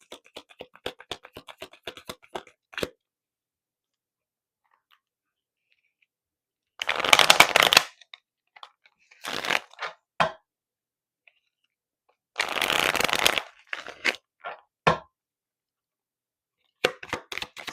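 A deck of tarot cards is shuffled in two brisk bursts of riffling and flicking, close and clear, separated by quiet pauses and scattered single card taps and clicks.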